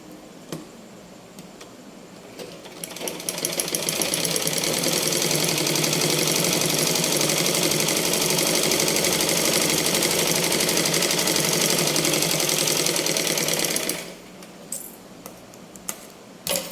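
A sewing machine stitches a 36-inch blouse front panel in one long steady run of about ten seconds, starting after a few light clicks and handling sounds and stopping abruptly, with no talking.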